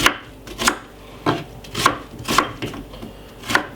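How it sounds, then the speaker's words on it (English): A knife chops a white onion on a cutting board in a close, steady series of about seven sharp taps roughly half a second apart, with no talk over them. "I got a white onion which I'm going to be cutting up."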